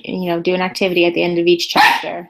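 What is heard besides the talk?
dog barking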